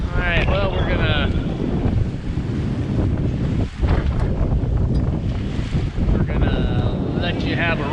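Sailboat pushing through choppy waves in strong wind, with constant roaring wind buffeting the microphone and splashing surf around the hull, loud and continuous, with a voice talking at moments.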